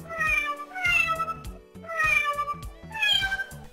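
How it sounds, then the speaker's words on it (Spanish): Four synthesized cat meows played in a steady rhythm over simple keyboard notes, clear and close. "un teclado con el que podremos crear música con sonidos de gatos"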